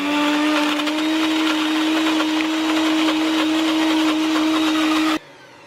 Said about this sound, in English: I'm using my NutriBullet, so I've popped everything straight into the cup, and we'll pop the lid on and then we'll turn it over and give it a good blend.